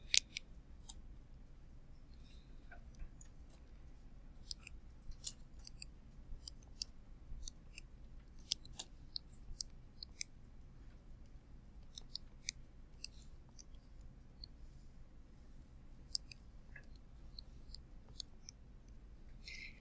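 Faint, scattered clicks of buttons being pressed on a calculator, irregular taps spread across a quiet background with no talking.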